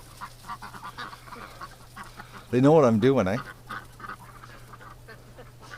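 A short burst of loud honking quacks from ducks stands out for about a second amid quiet background talk and shuffling, in winter.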